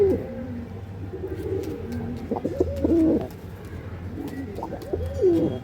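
Pigeons coo repeatedly at a pigeon sale in Hooghly, their low throaty calls rising and falling in several close bursts over steady market background noise.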